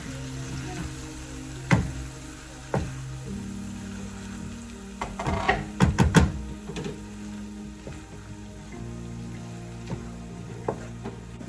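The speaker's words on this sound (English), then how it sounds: "You always need to keep stirring your egusi as you're frying it so that it will not burn" Soft frying sizzle of egusi in a pot with occasional scraping clicks and clatters from stirring, a cluster of sharper knocks midway, no voices.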